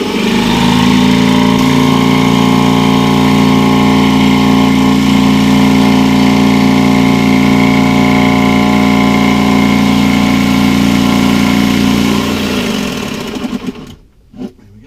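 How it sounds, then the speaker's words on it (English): A powered jigsaw cuts through wood for a bait hive, a loud continuous buzzing drone with strong harmonic tones that runs steadily for about twelve seconds, then winds down and stops. "I'm just going to quickly use the jigsaw"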